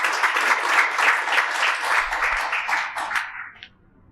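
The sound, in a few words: audience applause welcoming a speaker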